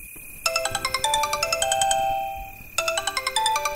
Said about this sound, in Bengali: ফের কর্কশ শব্দে ফোনটা বেজে ওঠে